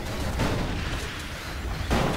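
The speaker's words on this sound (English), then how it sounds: "Everybody's shooting" Gunfire crackles in a hectic Elex 2 firefight, with dense, loud bursts of shots that overlap and run without a break through a dangerous area, and no voice over them.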